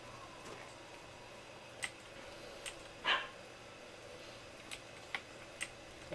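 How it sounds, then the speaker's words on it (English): A dog in the video game The Elder Scrolls IV: Oblivion gives one short, faint bark in the distance. Soft ticking clicks recur throughout over a quiet background hum, and no one speaks. "There was a dog that made a noise somewhere."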